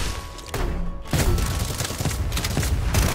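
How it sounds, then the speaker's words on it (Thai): A grenade blows up in the mobile game City of Outlaws with a loud, booming blast, followed by rumbling, crackling noise and no voices. "โยนระเบิดครับ"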